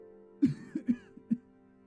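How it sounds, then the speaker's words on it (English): A few muffled coughs and throat clearing come from another room, faint and distant, four short bursts over a quiet background. "we hear coughing coming from another room"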